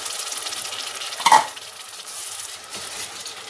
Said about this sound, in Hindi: अब इसको भूनेंगे।